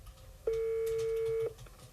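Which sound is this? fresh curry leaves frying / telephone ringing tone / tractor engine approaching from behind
telephone ringing tone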